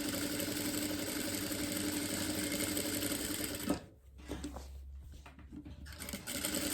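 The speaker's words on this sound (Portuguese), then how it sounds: "Sempre, na hora de costurar o zíper, passe uma costura mais devagar." A sewing machine runs steadily for nearly four seconds while stitching a zipper into a lined pouch, then stops, followed by a few softer, intermittent sounds of fabric being handled.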